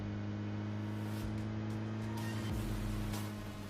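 Engine drone of a cheap open-top car with no roof being driven in a video game, a steady low hum with strong harmonics that swells slightly near the end, alone without talk.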